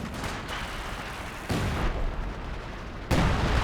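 Heavy gunfire and artillery-like blasts from a Company of Heroes 2 battle, with dense crackling volleys that rise in loudness at two points, sustained throughout without speech.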